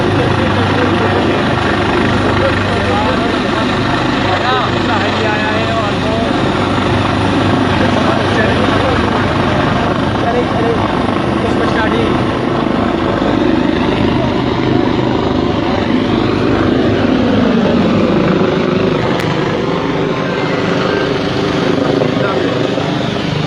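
Several army rescue helicopters at a chairlift rescue in Battagram roar loudly and continuously overhead, rotor thrum steady and close, with voices speaking underneath.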